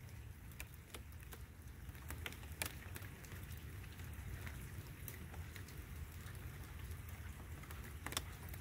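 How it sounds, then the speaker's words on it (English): Steady rain falls outdoors at night, a soft continuous hiss with scattered patters of drops, faint and fairly distant, with no voices. "It's raining pretty good."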